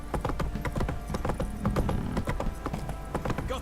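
Horse hooves clip-clopping at a steady gait in The Witcher 3 video game, close and rhythmic over a low rumble, with no talk.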